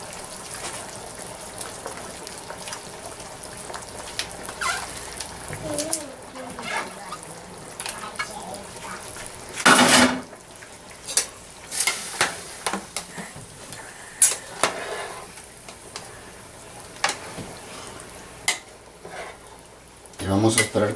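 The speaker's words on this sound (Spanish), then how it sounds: "Ahora vamos a agregar la yuca" Chunks of yuca go into a simmering pot of beef soup, with clattering and thudding against the pot, a loud splash and knock midway, then bubbling and scattered utensil knocks.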